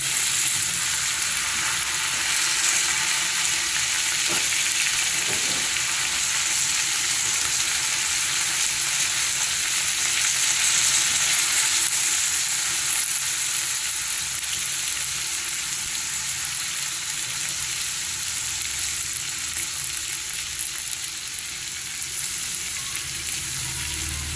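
Vegetables frying for pansit, a continuous bright sizzle of oil over a long stretch, with a few faint stirring knocks early on and no talking.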